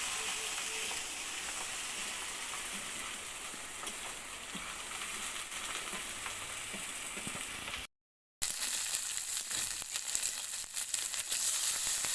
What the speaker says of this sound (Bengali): আর একটু ভালো করে মশলাটা কষিয়ে নেব